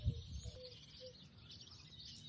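Small birds chirp and tweet outdoors on a morning at a hotel, faint, scattered calls over a soft background hum, with a brief low thump at the start and no talk.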